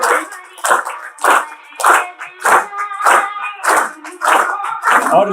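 Rhythmic group clapping in steady unison beats, roughly two claps per second, from a gathered audience at a Brahma Kumaris Rakshabandhan gathering, loud and close with no talking.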